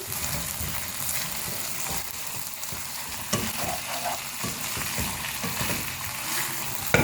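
Minced meat frying in a pan over a medium flame, a steady dense sizzle running throughout with occasional scrapes and clinks of stirring, close and fairly loud with no voices.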